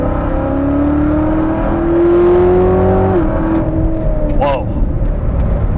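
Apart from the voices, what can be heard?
2019 Chevrolet Corvette ZR1 engine roaring at full throttle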